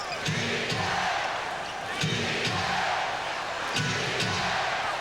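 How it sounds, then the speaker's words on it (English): NBA playoff crowd in Phoenix rhythmically chanting for defence, a repeated two-beat chant rising three times over a constant arena roar, with sharp basketball bounces and sneaker squeaks cutting through. "Crowd here pleading for defense from the Suns."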